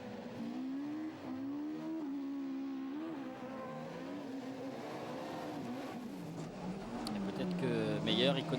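A rallycross car takes the joker lap at a European Rallycross round in Germany, its engine rising and falling in revving pitch sweeps beneath a commentator's continuous talk.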